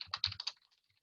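An email address is typed on a computer keyboard: a quick, close burst of soft key clicks lasting about half a second, then quiet.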